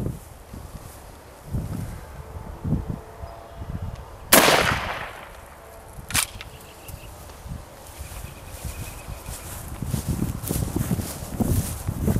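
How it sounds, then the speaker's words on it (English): A home defense shotgun with a rifled slug barrel fires Winchester PDX-1 rifled slugs outdoors: one loud sharp report, then a second shorter crack, with rustling and shuffling movement between them. "We're going to be shooting the Winchester PDX-1 with the rifled slug barrel"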